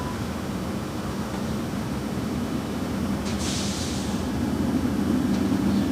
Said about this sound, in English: China Airlines, the 777 heading over to the southeast corner of Tom Bradley.